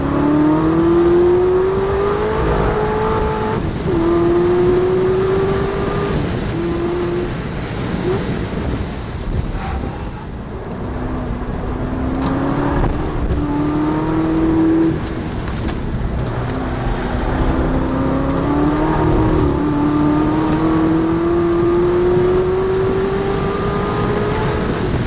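A Corvette test car on the Nurburgring with Michelin Pilot Sport Cup tires, its engine note rising and falling steadily through gear changes, heard from onboard under heavy wind rush for the whole stretch.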